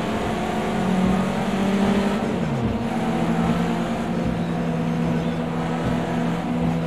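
Race car engine in Project CARS 2 on a cool-down lap: a steady, fairly loud droning hum with tonal whine, shifting pitch slightly as the car eases along.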